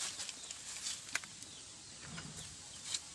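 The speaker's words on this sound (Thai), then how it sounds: "ไก่แจ้ครับไก่แจ้โอ้มีทั้งไก่แจ้ไก่บ้าน" Bantam and native chickens on a small Thai farm give faint, scattered clucks and chirps over quiet outdoor background noise, with no nearby talking.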